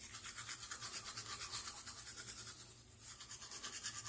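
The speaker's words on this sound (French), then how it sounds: "vous prenez votre brosse à dents, vous le trempez" Toothbrush scrubbing teeth with a whitening powder, a steady rapid back-and-forth bristle rasp close to the mouth, continuous with one brief lull, faint overall and without talk.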